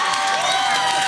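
A concert audience at a 2004 show applauds and cheers in a brief, bright, steady burst of mixed clapping and crowd noise.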